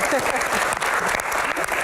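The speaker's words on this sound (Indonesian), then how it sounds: "Tepuk tangan." A studio audience at a talk show claps together, a brief burst of dense applause with a voice audible briefly at the start.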